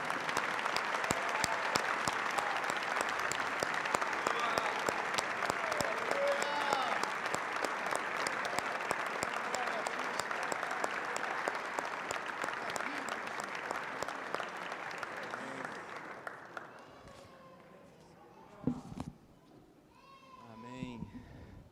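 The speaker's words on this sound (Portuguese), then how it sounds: "Vamos aplaudir ao Senhor" A church congregation applauds together, a dense, steady wash of clapping that holds for about fifteen seconds before thinning out and fading, with a few voices coming through near the end.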